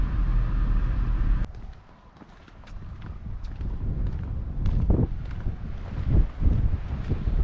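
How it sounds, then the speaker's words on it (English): Wind gusts across the rim at Navajo Point in the Grand Canyon, a steady roar buffeting the microphone, dropping briefly then rising in rough bursts. "This is more like the Grand Canyon, it's windy."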